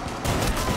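A short, loud burst of shotgun fire in Rainbow Six Siege, heavy blasts packed into under a second with no voices heard.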